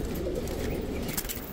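Turkish pigeons at an outdoor bird market in Baghdad's Adhamiya district, a steady low cooing murmur from several birds mixed with market bustle, close and continuous.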